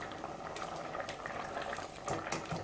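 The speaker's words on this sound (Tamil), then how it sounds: "இப்போ 2வது பால் தேங்காய் பால் எடுத்து வச்சதை ஊற்றி 10 நிமிஷம் நல்லா வேக வச்சிட்டோம்." Green gram payasam simmering in coconut milk in a pot, a steady close bubbling and popping that continues throughout with no voices.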